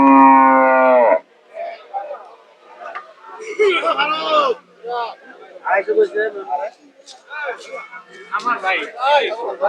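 At a cattle market, a cow lets out one loud, close moo at the start. People chat near the microphone for the rest, with faint babble of the market behind them.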